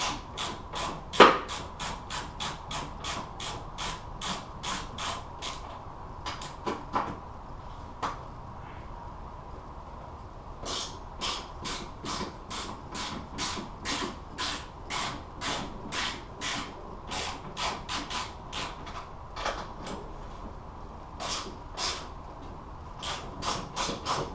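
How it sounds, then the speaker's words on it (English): A socket ratchet loosens 14mm tension arm bolts on a Datsun 240Z front suspension, making long runs of quick, even clicks close by, with a few brief pauses between runs. "I'll be able to use a socket on the tension arm bolts. So 14mm bolts."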